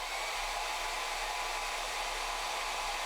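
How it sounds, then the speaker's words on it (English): A hair dryer running on its low setting, powered from an EcoFlow River 2 Pro portable power station, gives a steady, even broadband whoosh that holds unchanged from start to finish with no voices. "Hair dryer on low."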